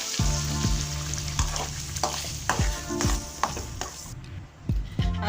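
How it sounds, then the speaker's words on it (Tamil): Ground masala paste for paneer butter masala sizzles in hot melted butter in a pan, a steady loud fry broken by repeated clanks and scrapes of a stirring spoon, with no voices. "இப்போ நம்ம அரைச்சி இருக்க பேஸ்ட்டை இதில் சேர்த்துக்கலாம்."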